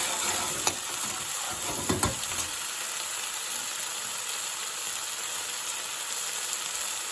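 Tomato puree paste sizzles and fries in a curry pan, with a few stirring scrapes early on over a steady, close hiss and no talking.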